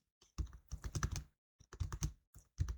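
Keys on a computer keyboard are typed in short, close clusters of clacking strokes separated by brief pauses.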